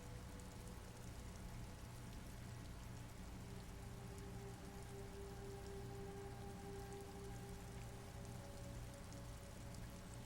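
Steady rain patters continuously on surfaces in the video game Disco Elysium, a dense, even hiss with soft low rumble beneath and a faint held tone threading through, unbroken for the whole stretch.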